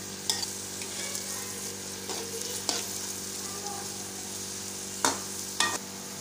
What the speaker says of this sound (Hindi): प्याज को अच्छी तरह फ्राई करेंगे